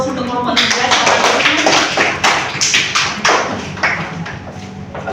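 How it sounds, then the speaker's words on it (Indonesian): Classroom applause for a student group after their presentation, with dense overlapping claps from many hands that swell and then thin out into scattered taps, over a background of murmuring voices. "berikan aplaus untuk kelompok 3"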